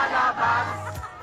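A huge Filipino concert crowd sings loudly in unison, a dense, roaring wash of voices that swells and dips over about a second.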